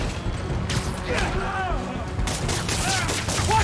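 Enemy gunfire in the video game Spider-Man: Miles Morales: a steady, moderately loud rattle of shots under game voices and background action.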